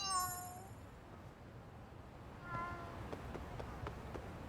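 A cat in the video game Lost Judgment gives a bright meow near the start, followed by a quieter second meow and light taps over a soft game background.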